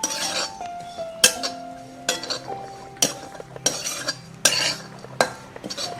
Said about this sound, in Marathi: सतत ढवळत राहायचं आहे नाहीतर काही वेळा हे करपतं आपलं खोबरं